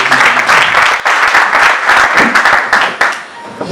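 An audience at a ceremony breaks into loud, close applause and clapping with some cheering, dense and continuous with brief dips.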